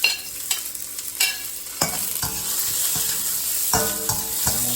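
Chow mein being stirred in a frying pan with a utensil, with a steady sizzle and repeated scraping strokes, close and fairly loud, and no voices.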